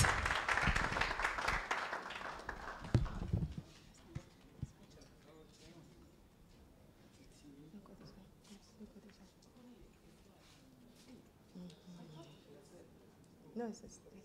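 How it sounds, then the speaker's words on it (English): Audience applause at an award scheme launch, a burst of clapping for a few seconds that quickly dies away, followed by quiet room noise, footsteps and murmured talk. "Please give her a round of applause"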